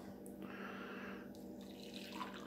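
Water poured for Russian coffee from a Russian Mountain Ration FSB Menu 1 military ration pack, a steady liquid rush running throughout at close range, with no talking over it.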